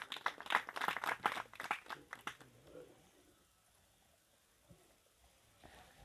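An audience at a religious satsang gathering claps to welcome a guest: a dense burst of applause for about two seconds that quickly dies away into near silence, with a faint stir of the room at the end.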